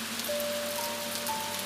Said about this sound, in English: The rain must be constant, stable, and calming throughout.